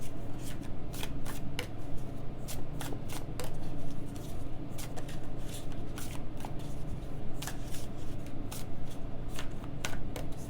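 Tarot cards shuffled steadily by hand, a continuous run of crisp riffling flicks close by, quiet and unbroken with no talking.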